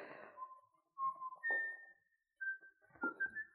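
A faint, thin whistled tune in short notes and sliding phrases, with pauses between them, heard alone in a quiet room.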